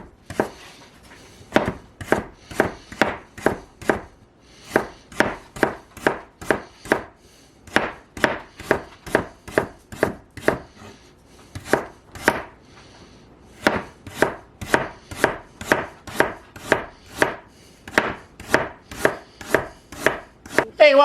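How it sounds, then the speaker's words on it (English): A knife chops carrots into thin diagonal slices on a cutting board, with fast, steady runs of crisp, close knocks broken by short pauses. No one speaks. "My dog, she knows I'm cutting carrots."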